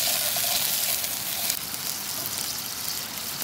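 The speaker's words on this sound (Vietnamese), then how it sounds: "Lâu rồi bữa nghe cái tiếng dầu mỡ nó chè" Oil sizzles loudly and steadily in a pan as food is stir-fried at a cooking spot in a forest, a dense, continuous hiss heard up close with no talking.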